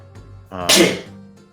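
A single sneeze: a brief voiced intake swelling into a sharp, hissy burst that quickly fades, heard close up.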